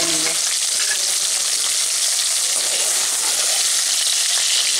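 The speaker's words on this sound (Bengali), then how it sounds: "ডাটাগুলো আমরা খুব বেশি ভাজবো না, ঠিক এরকমই ভাজবো।" Vegetable stalks frying with a little turmeric in hot oil, a loud continuous sizzle with a faint scrape of stirring, close and alone.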